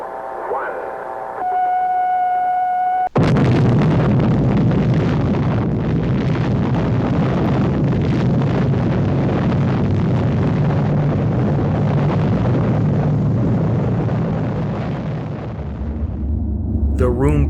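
Deep underground blast set off at the end of a long horizontal shaft nearly 1,200 feet below the New Mexico desert: a sudden, massive rumbling roar that holds loud for over ten seconds before slowly easing, after a short tonal intro.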